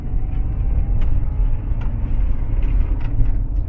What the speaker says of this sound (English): Hear the motor, it's super quiet back there.